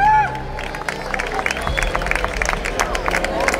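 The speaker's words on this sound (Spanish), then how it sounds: "Fuerte aplauso para ellos y ellas" A crowd applauds champions at a Spanish orienteering championship award ceremony in Guadix, a bright, sustained patter of many claps with some cheering and crowd murmur, heard close alongside a loudspeaker tone at the start.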